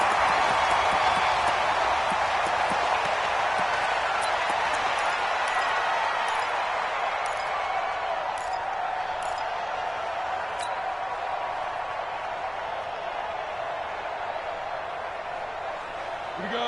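Loud, dense stadium crowd roar from a PS4 American football game fills the whole stretch, steady and deafening, with a commentator talking over it.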